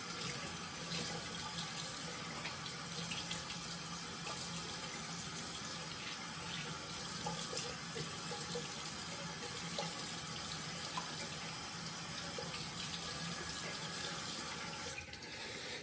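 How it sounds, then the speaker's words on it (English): Tap water running steadily into a sink for a quick rinse during a shave, a continuous close hiss that cuts off near the end, no talking. "quick rinse"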